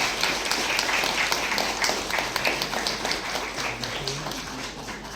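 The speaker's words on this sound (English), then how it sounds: "please, with a round of applause." An audience claps steadily, a dense wash of applause from a crowd that tapers slightly toward the end.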